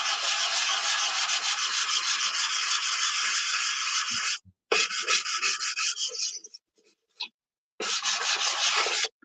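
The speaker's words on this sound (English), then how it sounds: "I'm trying to sand the super fill without sanding too much of the fuselage." Hand sanding of filler on an aircraft fuselage near the cowl, a steady loud rasping scrape in long strokes, broken by brief pauses and a few short scuffs before sanding resumes.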